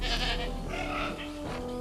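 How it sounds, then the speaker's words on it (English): Video game goat bleating in a repeated, wavering cry, close and loud, with a tonal background layer running underneath, no speech. "Did he just release a goat?"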